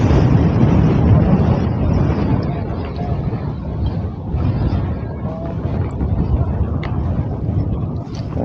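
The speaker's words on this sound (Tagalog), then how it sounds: "Grabe, lakas ang hangin" Strong gusty wind roars across the mic at an outdoor fishing spot in Angono, Rizal, a loud continuous low rumble that swells and eases slightly over several seconds, with no clear speech.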